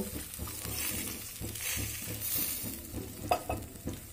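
Mustard and green chili paste with a splash of water goes into a hot frying pan for an eggplant dish, giving a steady close sizzle with repeated stirring scrapes and one sharp clack near the end; no talking.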